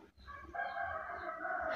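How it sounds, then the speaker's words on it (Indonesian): A rooster crows once, a drawn-out rising and falling call heard from a moderate distance, with no talking. "Kekuak ayam saling bersahutan di sana."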